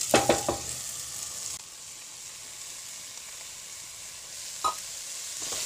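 Chopped spinach drops into a hot pan of dal palak base with a few quick bursts at the start, then settles into a steady, fairly quiet sizzle with one more brief stir later.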